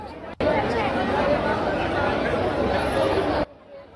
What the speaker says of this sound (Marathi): गर्दी खूप होती.